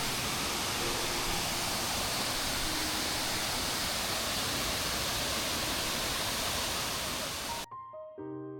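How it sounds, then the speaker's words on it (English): Sungai Pandan waterfall in Kuantan, Malaysia pours in a dense, loud, steady roar of falling water that fills the clip before cutting off abruptly near the end. "Sungai Pandan Waterfalls."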